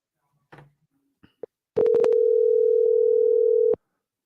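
A telephone dial tone sounds while a call is placed: a few faint clicks and beeps, then a loud, steady, unbroken tone holds for about two seconds and cuts off abruptly.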